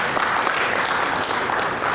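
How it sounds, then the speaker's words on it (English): A conference audience applauds a lineup of panels at a climate finance and investment summit in Nigeria, a dense, steady wash of many hands clapping throughout. "a round of applause."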